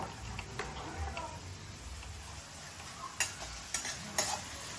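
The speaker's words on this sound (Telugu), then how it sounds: "ఇది వేగుతూ ఉంటుందండి." A flat bean curry with curry leaves frying in a pan: a faint, continuous sizzle, then a few sharp scrapes and clinks from stirring near the end.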